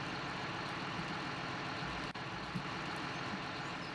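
A John Deere tractor engine idles in the Farming Simulator 2013 video game, a steady, unbroken low diesel rumble with a constant drone that holds level throughout and carries no speech.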